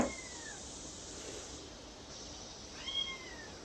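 A kitten meows twice indoors, faint and thin against a steady background hum from a refrigerator: one drawn-out cry at the start and another about three seconds later.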